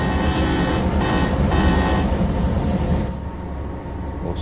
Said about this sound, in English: I think it's coal. Yeah, it's a coal train.